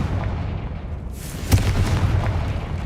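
A Confringo spell detonates in a video game set in a decayed catacomb, giving a single sharp blast followed by a rumbling, crackling tail over low ambient noise.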